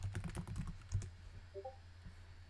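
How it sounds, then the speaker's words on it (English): Soft computer keyboard typing, a quick cluster of faint key taps near the start that thins out to a few scattered presses, quiet and close. "type my message"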